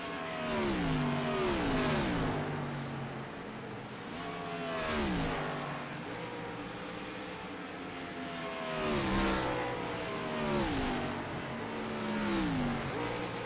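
Race car engines from a retro-style series at Pocono scream past one after another, each pass rising and then dropping in pitch as it goes by, several cars in succession with steady loud engine drone throughout.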